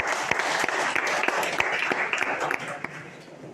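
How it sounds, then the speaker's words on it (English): Warm, steady applause from an audience at an alumni meet, dense clapping throughout with a few sharper individual claps standing out, fading slightly at the end. "So I would like to give a round of applause to them."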